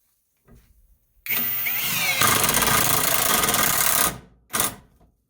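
Brushless Top Shak impact wrench with a 1/4 inch square-drive bit driving screws into a stud: a loud, steady whirring hammer burst of about three seconds, then a short second burst, with no talk.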